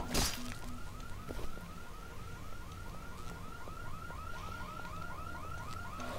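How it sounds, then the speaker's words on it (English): A car alarm blares in the zombie game Dead Island, its rising whoop repeating over and over at a quick regular pace after a sharp bang at the start, loud and alone without voices. "Can I turn the alarm off?"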